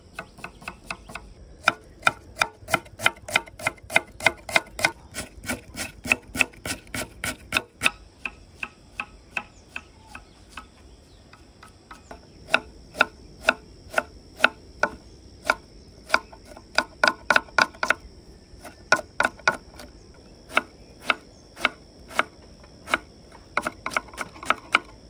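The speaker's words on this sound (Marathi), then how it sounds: "आपण आता कांदे बारीक चिरून घेऊ।" Onions being finely chopped with a knife on a cutting board for Nashik-style misal, a close, rapid series of sharp regular taps that pause briefly and then resume at a steady pace.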